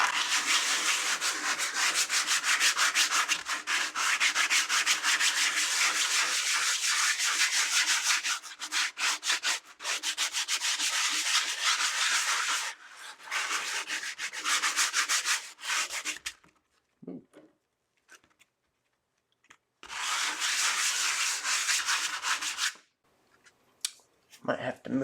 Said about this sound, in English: I'm going to give it a quick sanding so we can actually start doing some work on it.